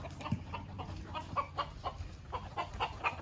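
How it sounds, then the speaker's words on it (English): Chickens dust bathing in a garden give off repeated soft clucks and chirps at a moderate distance, with faint scratching underneath and no speech. "These chickens are dusting right here."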